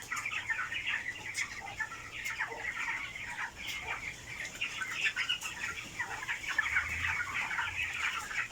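A flock of 24-day-old broiler chickens, about 1.5 kilograms each, clucks and chatters steadily on a farm, with overlapping calls, occasional wing flaps and no talking.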